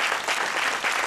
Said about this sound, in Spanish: Vamos a darle un aplauso a ese compañero